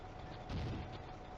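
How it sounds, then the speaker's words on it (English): A mortar fires for effect in a WWII war game set in May 1940, heard as a dull, muffled distant boom rising briefly over a steady rumbling battlefield background. "The mortar moves to fire for effect."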